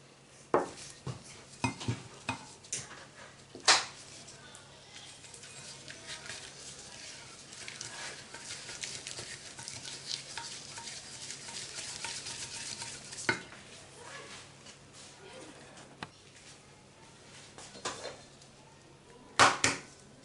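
Butter and sugar get stirred together in a bowl by hand: faint, soft scraping and mixing with occasional light clinks of utensil against the bowl, quiet and continuous.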